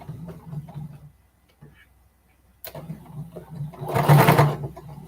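A sewing machine stitches through layers of quilting fabric, its close, steady motor whir running in two bursts separated by a quiet pause, the second louder and brighter.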